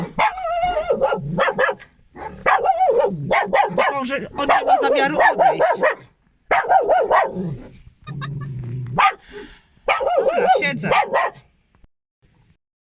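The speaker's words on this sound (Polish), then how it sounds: "Stoi ten pies za samochodem i szczeka na mnie." A dog barks repeatedly at close range from behind a car, its barks interleaved with a person talking nearby.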